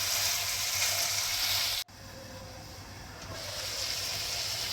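Ridge gourd with turmeric stir-fried in oil in a pan, a steady close sizzle broken by one brief sharp dropout, then the frying hiss rising again.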